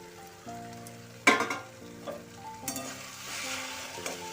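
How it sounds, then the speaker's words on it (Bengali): Boiled red lentils stirred into jute greens frying in a pan: a continuous sizzle with a sudden loud burst as the lentils go in, then scraping stirs and light clinks, no talking. "এই মুসুর ডাল সেদ্ধ করা ডালটা এর মধ্যে দিয়ে মিশিয়ে নেব"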